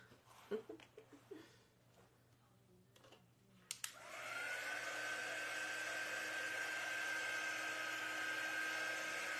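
A handheld hair dryer blows steadily at close range, switching on after a few soft handling knocks and then running as a continuous loud whoosh with a high whine.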